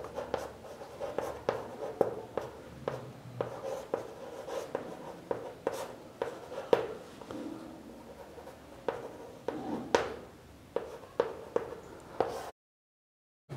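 Pen or chalk writing out a chemistry exchange reaction equation for a class 7 science lesson, a steady scratchy stream of strokes and taps close up with no talk, cutting to silence at the end.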